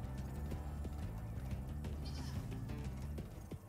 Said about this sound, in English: And that is a floating sheep.